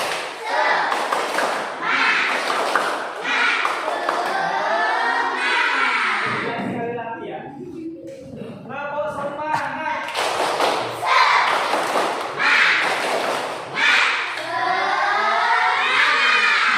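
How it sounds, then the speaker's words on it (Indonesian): An Indonesian primary school class does a rhythmic 'tepuk semangat' spirit clap, loud and continuous with patterned bursts, while children's voices chant and shout along with it in Indonesian. "Tepuk semangat."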